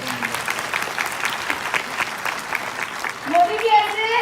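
Audience applause at a Modicare leadership talk, a steady wash of dense clapping under a voice, with bright tonal sounds rising near the end.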